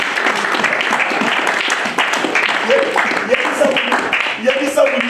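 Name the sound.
congregation applauding to acclaim the Lord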